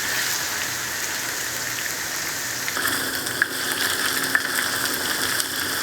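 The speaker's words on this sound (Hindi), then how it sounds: "अब लहसुन अदरक को हम तकरीबन 2 से 3 मिनट तक फ्राई करेंगे" Garlic and ginger frying in a pan for chicken shimla mirch curry, a steady close hiss and crackle of sizzling oil with a few sharp pops, heard alone throughout.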